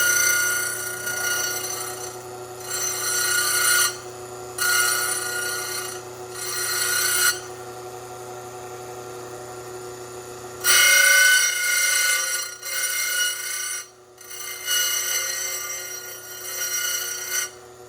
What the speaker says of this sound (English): so we'll go ahead and dress the stone. So you get the grinder moving